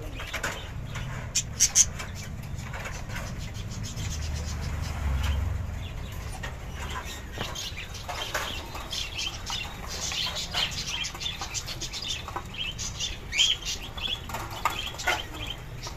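Pigeons at a loft where birds are kept for sale, with scattered soft coos and bursts of wing flapping over steady low background noise, no talk.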